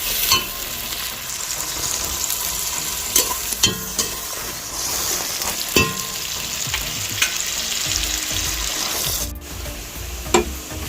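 Sliced onions with a pinch of salt fry in a pan for ghee rice, a continuous loud sizzle broken by several sharp scraping stirs of a spoon; no voices.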